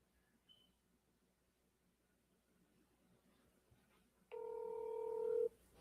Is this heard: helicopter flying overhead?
no